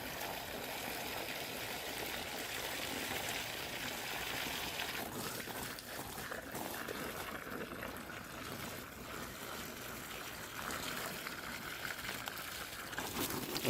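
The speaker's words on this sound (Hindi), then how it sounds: "तो फिर चलते पानी लगा लेते जो चौधरी साहब, ठीक है।" Water is poured onto an air-layered seedless lemon plant, making a soft, continuous trickling splash that stays fairly faint and steady.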